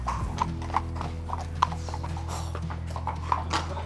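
Horses' hooves clip-clop on hard ground in a steady walking rhythm, close and clear, with a continuous low hum underneath and no talking.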